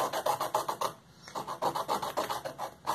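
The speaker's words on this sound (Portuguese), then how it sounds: "é assim que se limpa um esfuminho, passando ele na lixa" A paper blending stump rubbed back and forth on a nail file to clean it, giving a close series of short, rhythmic rasping strokes with a brief pause midway, alone without talk.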